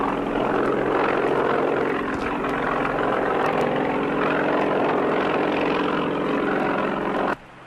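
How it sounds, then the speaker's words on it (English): Helicopter rotor and engine noise over open water, a loud, steady broadband drone holding level throughout before cutting off abruptly near the end. "They've got a helicopter on the way to pick you up"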